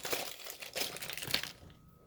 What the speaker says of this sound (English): Okay, so I'm peeling off a shell